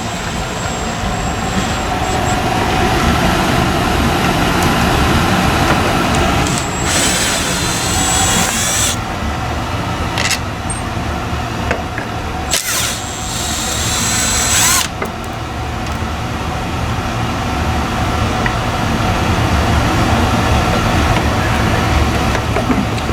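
An air impact gun works on rusty parts under a slammed EF sedan. Several loud, sharp bursts of rattling hammering rise over a constant loud compressor-like roar, with pauses between them.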